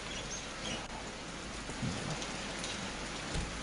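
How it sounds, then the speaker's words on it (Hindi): Steady rain falling over the highway area at Banihal in bad weather, a dense even hiss of drops throughout with a few faint low rumbles and no voices. "ये बनिहाल की तस्वीरें हैं, बारिश इस इलाके के अंदर भी।"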